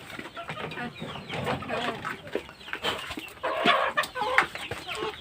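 Farm hens, broiler chickens kept with a few native chicks, cluck and chatter steadily at close range, a busy overlapping flock sound with occasional louder calls.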